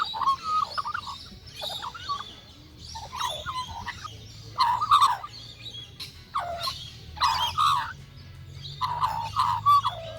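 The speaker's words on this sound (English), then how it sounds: "the magpies, and this particular one was very vocal" An Australian magpie calls repeatedly in bursts of warbling, fluting notes, fairly close and loud, with a steady low hum underneath, at a bush campsite in the Scenic Rim, South East Queensland.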